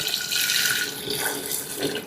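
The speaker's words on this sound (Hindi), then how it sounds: "और अब इसमें जाएगा पानी" Water pours steadily into a cooking pot for haleem, a continuous close splashing gush over about two seconds with no talking.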